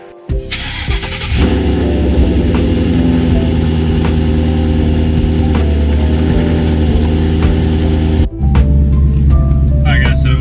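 A car engine idles steadily and loudly up close with a low, even rumble, briefly cutting out near the end before picking back up; the car has ARP studs and a VMP tune and is about to go on a test drive.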